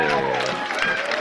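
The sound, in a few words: pool hall crowd cheering and applauding a 9-ball shot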